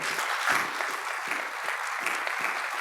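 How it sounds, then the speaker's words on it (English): An audience at a community college presidential inauguration gives a round of applause, steady dense clapping that holds evenly across the short stretch, with no voice over it. "I'd like to give you one more round of applause for what they do every day"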